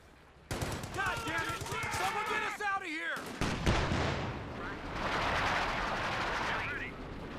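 Artillery barrage in the Company of Heroes 2 strategy game: a run of booming blasts and crackling gunfire over continuous battle noise, with game chatter and voices mixed in, loud and dense throughout.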